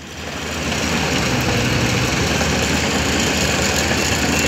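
A rice harvester's engine starts up and settles into a loud, steady running drone with a rough vibrating texture, close by and with no talking.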